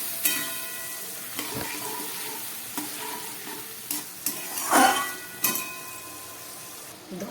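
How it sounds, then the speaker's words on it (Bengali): Ground spice masala with black pepper powder and a splash of water frying in a pan for a chana dal dhoka, a soft continuous sizzle punctuated by several sharp spoon scrapes and stirs, near and without voices. "এর জন্য সামান্য একটু জল দিয়ে দিচ্ছি যাতে মশলাটা খুব ভালো করে কষানো যায়"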